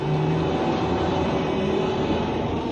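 An urban link train headed for a small spaceport near Croydon rumbles loudly and continuously, a steady close-up ride noise with faint tonal hums and no voices.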